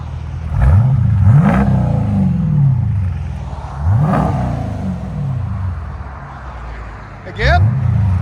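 A 2023 Jeep Grand Cherokee with the 5.7-liter HEMI V8 revs loudly three times, each blip rising and falling, over a steady idle rumble, close by, with a voice speaking between the revs.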